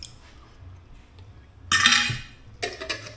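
A mustard, vinegar and oil dressing being mixed: two sharp bursts of a utensil clinking and scraping in a bowl break a quiet room, one longer sweep, then a shorter set of quick taps.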